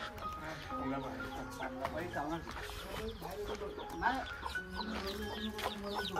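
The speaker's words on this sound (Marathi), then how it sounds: "आतमध्ये ना भरपूर सारे कोंबडे आहेत" Chickens clucking inside a poultry shed at an old Konkan mud house, a dense flock of overlapping clucks and calls with a person talking over them.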